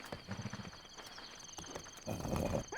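A horse in the video game Zelda: Breath of the Wild gives a few hoof clops and soft snorting sounds, brief and moderately quiet against faint ambient game noise, swelling slightly toward the end.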